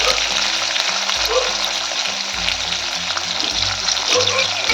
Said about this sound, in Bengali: তেলটা গরম হয়ে গেছে আঙুরগুলো ভেজে নেব